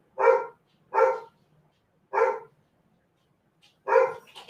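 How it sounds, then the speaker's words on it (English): Four separate barks from a dog nearby, spaced unevenly with quiet gaps, the last followed by faint rustling. "You guys hear the dogs barking?"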